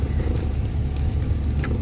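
A car engine hums steadily while the car is driven by a first-time driver, with a broad, constant low rumble and some wind buffeting at the microphone. The sound is close and continuous, with no talking.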